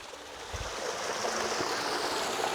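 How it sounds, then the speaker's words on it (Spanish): Spring water from the mountain, fed from the Overo volcano, falls and flows near an abandoned hotel in Sosneado, Mendoza, making a steady broadband rush that holds constant with no pauses. "acá quería mostrarles cómo sigue cayendo el agua"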